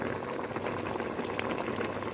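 Thick pear jam bubbling steadily in a pot, a dense, continuous simmer of popping bubbles, close and fairly quiet, with no voices.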